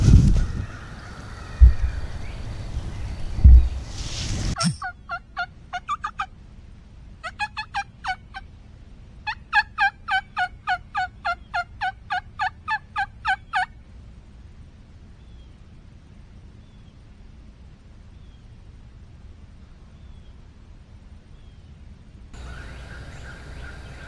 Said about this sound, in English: So the bird that I had been hearing behind me gobble continued back and forth back there